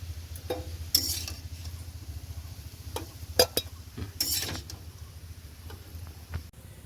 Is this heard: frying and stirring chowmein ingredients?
yes